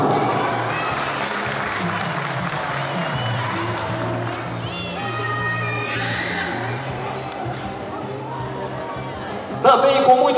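Audience applause at a municipal celebration in São Sebastião do Umbuzeiro, as a social assistance secretary is welcomed; steady clapping and crowd noise hold over music, with a louder burst near the end.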